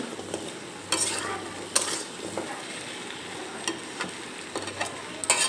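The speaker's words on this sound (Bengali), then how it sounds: "2 মিনিটের মতো আমি সব কিছু একসঙ্গে কষিয়ে নেব।" Fish roe sautéed with spices in a pan, a soft continuous sizzle broken by scattered scrapes and clinks of a spatula, close but fairly quiet, with no talking.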